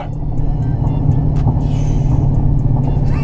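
A Dodge Charger SRT Hellcat drives with a loud, steady low engine rumble heard from inside the car, sustained throughout with brief higher whooshes partway through.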